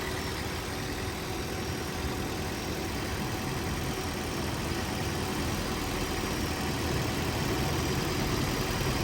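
An electric AC compressor, charged with 480 g of refrigerant, runs as its heat load is removed, giving a steady, unbroken motor drone with a constant close hum and no talking.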